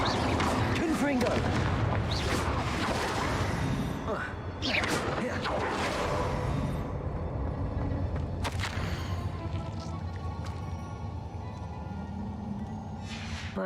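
Confringo blasting spells from Hogwarts Legacy go off as loud, booming explosions, several heavy blasts in the first seconds, then scattered bursts over a dense rumbling bed, with voices talking through it.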